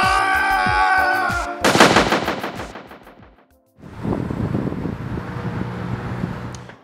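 Gunfire in a police shootout scene: a rapid burst of repeated shots, then a loud rolling volley that fades, a brief silence, and a further noisy spell of crackling blasts and rumble.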